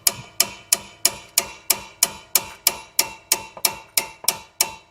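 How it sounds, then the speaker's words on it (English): Repeated hammer blows on metal during strut replacement on a 2009-2017 Chevy Traverse, about fifteen sharp, evenly spaced ringing strikes in steady rhythm, close and loud with no talking. "So now that I've got that 8mm locked in, I can take my hammer"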